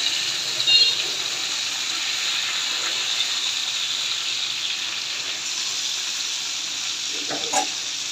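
Rohu fish pieces fry in hot oil in a pan, giving a steady, close crackling sizzle throughout with a brief louder pop near the end and no voices.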